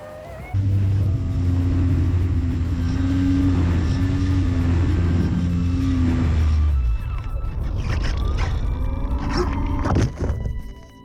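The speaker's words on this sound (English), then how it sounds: "I hope you enjoyed the testing of this plane" Foam RC plane on a long-duration test flight, its electric motor buzzing loud and close with steady tones for about six seconds before cutting out, followed by rustling, clattering handling noises.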